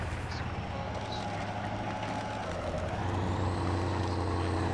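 A heavy Russian-built truck engine in the off-road driving game Spintires drones steadily and loudly while the vehicle is stuck among trees, with its low rumble shifting slightly in pitch partway through.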